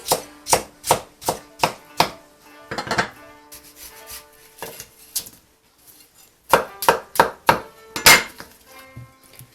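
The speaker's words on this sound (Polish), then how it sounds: "Następnie kroimy na maleńkie kawałeczki" A knife chops peeled melon into small pieces on a board, giving crisp, sharp strokes in two quick rhythmic bursts with a short pause between, close up and with no talking.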